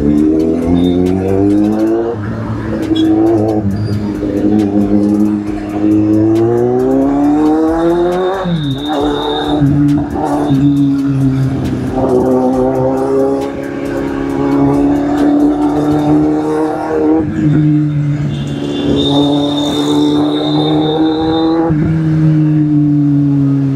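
Superbike engine on a night ride, running steadily with rising and falling revs and a loud, continuous drone throughout, with no talk over it.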